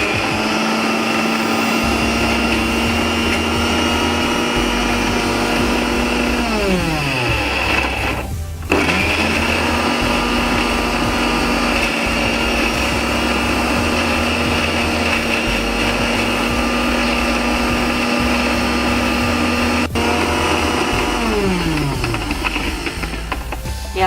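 An electric mixer grinder whirs loudly, grinding vada pav masala paste with coriander, in repeated bursts. It runs at a high steady whine, briefly stops and restarts with a falling and rising pitch, and nobody talks over it.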